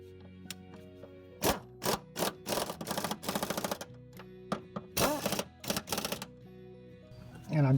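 A hand ratchet tightens the bottom bolts of a rear shock absorber on a 2014 Ford Fusion, giving bursts of quick clicking strokes with metallic clacks between them and a voice at the end.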